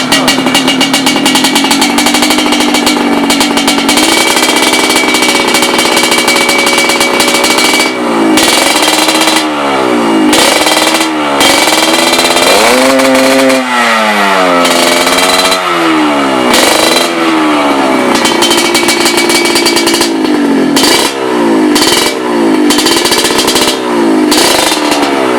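A Yamaha RX King two-stroke motorcycle in Medan revving hard, loud and close, with a continuous engine drone broken by repeated sharp throttle blips rising and falling in pitch.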